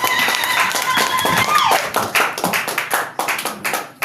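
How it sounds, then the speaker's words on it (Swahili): A church congregation claps in quick, rhythmic bursts, loud and close, with a held voice or tone briefly sounding through the first half. "Shangilie Bwana Yesu kwa makofi mengi."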